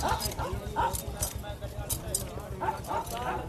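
Several dogs of different breeds bark in short bursts at a moderate distance at a livestock fair in Sri Muktsar Sahib, Punjab, mixed with people talking and general outdoor commotion.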